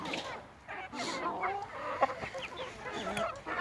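Pekin bantam hens and their chicks clucking and peeping close by on a small poultry farm, a busy overlapping chatter of soft clucks and high cheeps.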